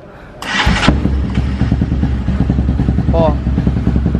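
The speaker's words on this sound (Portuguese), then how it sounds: "vamos ver o barulho dessa danada aqui. Esperar dar uma esquentadinha aqui, que a moto tá fria." A cold Honda XRE 300 motorcycle engine cranks and catches, then idles roughly with an uneven, stumbling misfire throughout, close and loud, while someone speaks briefly.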